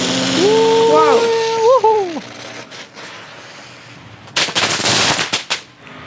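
Backyard fireworks lit with a sparkler: a whistling tone rises and wavers for a couple of seconds, followed by a quick burst of sharp, rapid crackling pops.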